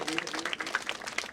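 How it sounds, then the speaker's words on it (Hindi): Audience clapping to welcome a guest at a live Shrimad Bhagavat Katha gathering in a village; short, uneven claps close by, with a voice or chant faintly underneath. "और तालियों से स्वागत होना चाहिए।"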